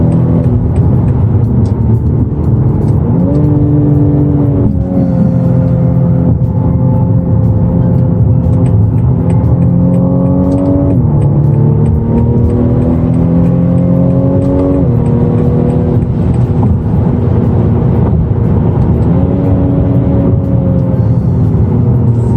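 A BMW M235i engine drones steadily, its pitch jumping up in sharp revs several times as paddle-shift downshifts engage engine braking, then settling into a lower hum.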